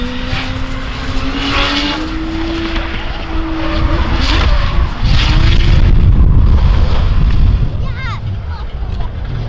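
A nitrous-fed race car engine roars loudly and rises in pitch as it accelerates on a track, with tire noise and a brief squeal near the end.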